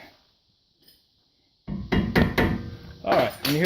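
Hammer blows strike metal on a car's brake caliper during a brake pad change, loud sharp knocks after a quiet stretch, several hits in quick succession close by.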